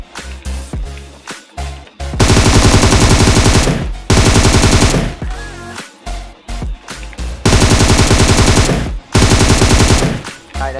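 Automatic fire in PUBG Mobile, long sustained bursts aimed at a vehicle, loud and close, separated by brief pauses, with no talking over it.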